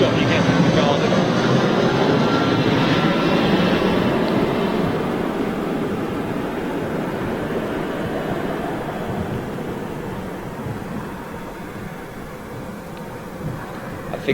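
An Airbus A380 at Manchester Airport, a broad roaring jet rumble that is loudest at first and slowly fades over fourteen seconds, heard from a garden with wind noise on the microphone.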